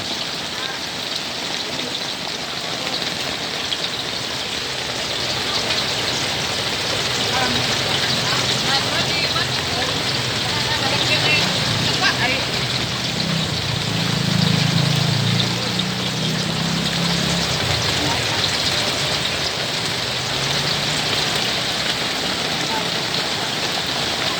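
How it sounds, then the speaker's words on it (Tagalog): Heavy afternoon rain falls steadily on surfaces around a street food stall, a constant wash of patter that swells slightly midway, with a low engine hum in the background. "Maulan hapon. Mabaha na."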